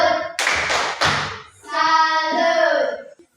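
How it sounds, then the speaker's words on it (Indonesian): Rhythmic salute clapping, the Indonesian "tepuk salut" led in a classroom presentation, with a few sharp hand claps followed by a sung or chanted group response, close and loud. "Tepuk salut."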